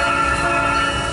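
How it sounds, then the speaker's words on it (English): A train horn sounds in a train simulator video game, a loud sustained tonal blast held for the whole moment with no talk over it. "push my horn"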